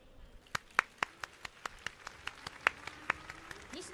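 Sparse, scattered clapping from a small audience after a speech at Tokyo Game Show 2025, individual claps distinct at an uneven pace, moderately distant.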